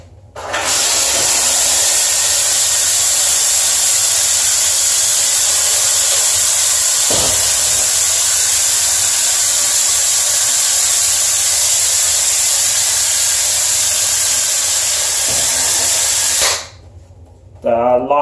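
A HomeRight SteamMac steam cleaner blasts steam in a bathroom shower. The loud, steady hiss runs for about sixteen seconds before cutting off sharply.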